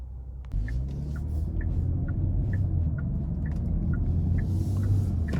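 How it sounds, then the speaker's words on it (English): A 2022 Genesis G70 3.3T Sport Advanced rolls along the road, its interior filled with a steady low engine and road rumble. A faint regular ticking, like a turn signal, repeats throughout. "next we're gonna go ahead and take this G70 out on the road for a quick test drive"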